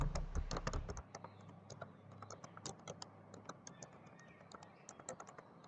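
Fingers type on a computer keyboard while a title is entered in an MS Office program: a quick, irregular stream of light clicks and taps, close by, after a brief low hum at the start, with no talk.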